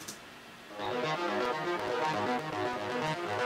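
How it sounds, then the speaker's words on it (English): Bright, wide synth chord saturated with the Trash plugin, starting thinner and jumping to a fuller, louder sustained tone with dense high harmonics after the first moment, steady and unaccompanied by talk. "it's got a lot more of harmonics, high harmonics, it's wider,"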